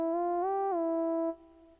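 A synth lead melody from the Wine Lead 1 preset in the Expand plugin plays dry without effects for a contemporary hip-hop beat. It holds a single clean, bright note, bends up briefly and back, then cuts off cleanly.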